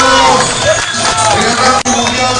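Crowd at a boxing event in El Agustino, Peru, applauding and cheering boxer Ricardo Astuvilca as he enters the ring, a loud continuous roar that swells and dips briefly near the end.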